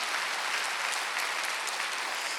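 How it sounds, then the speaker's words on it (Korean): A church congregation at a Wednesday worship service breaks into sustained applause, a dense, even clapping from many hands that fills the whole moment without speech. "박수 한번 주세요"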